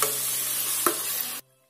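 A spice masala roasts in oil in a pan for a stuffed cauliflower dish, giving a loud, close, continuous sizzle with one brief clink of stirring, then it cuts to near silence.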